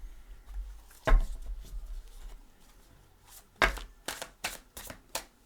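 Tarot cards being shuffled in a few quick riffling bursts, close by, with quiet pauses between and no talking.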